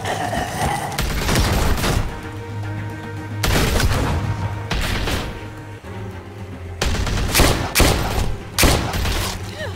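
Sustained bursts of gunfire from shooting enemies in The Walking Dead: Season Three video game, dense rapid volleys with heavy booming hits that come in several waves, loud and close, with no one speaking.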